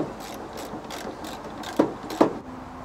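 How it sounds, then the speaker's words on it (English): A ratchet clicks in quick, rhythmic strokes while tightening the steering column collar on a 1976 Ford truck, close up, ending with two sharper clacks. "I'm going to tighten down that collar on the steering column here"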